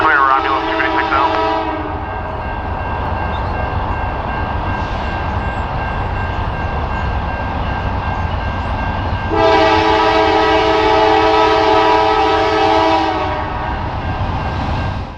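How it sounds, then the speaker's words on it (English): A Norfolk Southern Triple Crown freight train rolls into Detroit with a loud, steady rumble and rail noise, sounding two long horn blasts, one at the start and a longer one near the end. "the last daylighted arrival of a Triple Crown train into Detroit"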